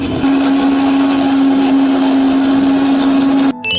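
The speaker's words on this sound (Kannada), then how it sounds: "ಎಲ್ಲನ ಮಿಕ್ಸಿ ಒಳಗಡೆ ಹಾಕಿ ಅದನ್ನು ಚೆನ್ನಾಗಿ ರುಬ್ಬಬೇಕು" A kitchen mixer grinder blends hibiscus leaves and onion into a hair mask paste, a loud steady whirring drone with a constant motor pitch that cuts off abruptly at the end.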